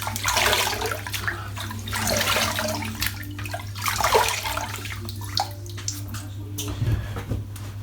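Running water splashes and gurgles as shaving lather from a Noble Otter soap is rinsed out of a shaving tub, close and continuous over a steady low hum.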